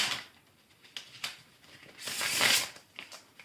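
Tarot cards are shuffled close by in a series of soft riffling and sliding bursts, with a longer brushing swell near the end and no voices.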